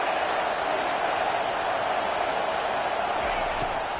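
A football stadium crowd roars steadily on a big third down, a dense, even wash of cheering that holds at full loudness throughout.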